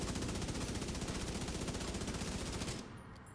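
Sustained automatic gunfire in The Division 2 video game, a fast, even stream of loud shots lasting nearly three seconds before cutting off abruptly, heard alone without voices.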